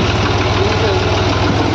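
A tractor engine runs loud and close while the tractor sits stuck in heavy mud, a steady low rumbling chug with a rhythmic pulse and no clear talk.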